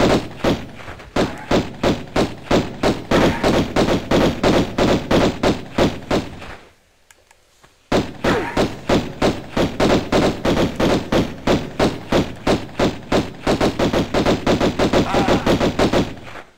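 Rapid enemy gunfire in Tomb Raider Remastered, a loud steady burst of machine-gun-like shots that pauses for about a second and a half midway, then resumes at the same fast rhythm until the end.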